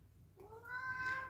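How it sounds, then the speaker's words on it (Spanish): Cat meowing indoors during a nail session, a single rising meow that swells and stretches out, fairly faint over a low background hum. "¿Escuchan el maullido?"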